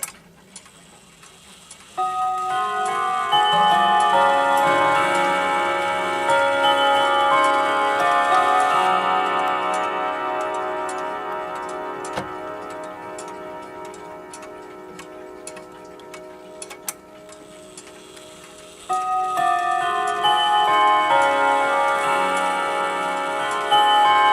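A 1970s triple-chime clock plays the Whittington chime on chime rods, a long sequence of ringing, sustained metallic tones struck in a stepped melody, loud and close, with a brief pause before the pattern resumes.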